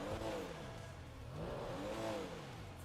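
A Pfister Comet S2 sports car in GTA revs its engine in rising and falling sweeps, a steady moderately loud mechanical drone with no talk over it.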